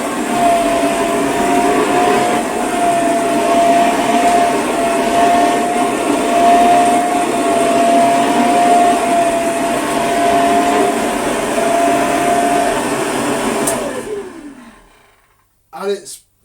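A restored 1920 P A Geier Royal vacuum cleaner runs with a steady, loud whining roar and a sustained motor tone for about thirteen seconds, then is switched off and winds down, followed by a brief knock.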